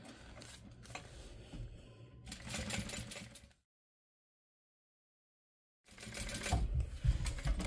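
Sewing machine top stitching a fabric bag gusset to its lining, running in two rapid mechanical bursts separated by a pause of silence, close and clear with no talk.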